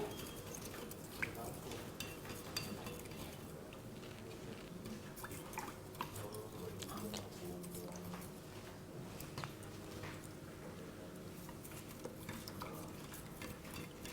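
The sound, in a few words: stirring salt into water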